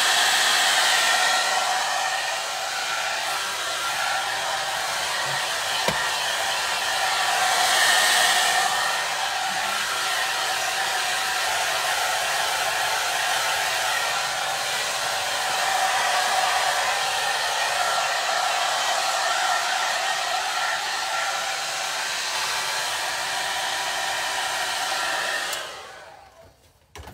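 A hair dryer blows steadily on a glass lampshade bell, a loud continuous whoosh that holds for about 25 seconds before cutting off, with no talking.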